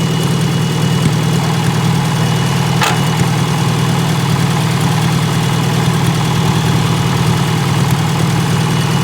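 A Farmall Super A tractor engine idling in gear, a loud, steady low rumble with an even, throbbing pulse that holds unchanged the whole time.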